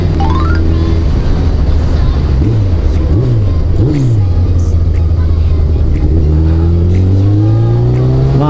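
Honda CBR1100XX Super Blackbird motorcycle riding through mountains on a summer tour, engine loud and close, revving up and down in several rising sweeps before a long steady climb through the gears.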